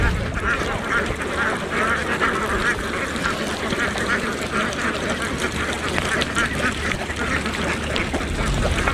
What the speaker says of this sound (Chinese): 看到这么多可爱的鸭子，蔡徐坤也打算体验一把赶鸭。